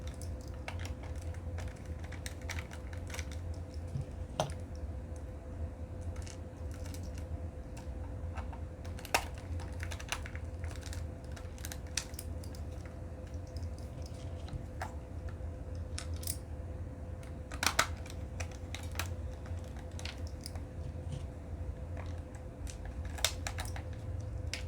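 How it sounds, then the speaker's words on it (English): Small screws are being driven back into a Sony PS3 controller, giving faint, close, intermittent clicks and scratchy ticks over a quiet steady hum, with no talk. "Put the 5 screws back in."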